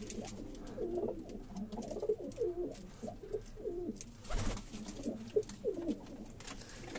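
Breeder pigeon cooing up close, a run of about eight throaty, rolling coos in a loose repeating rhythm, with a brief rustle partway through.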